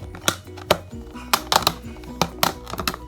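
A cardboard box is torn open by hand nearby: a string of sharp, irregular snaps and crackles separated by short pauses, with no talking.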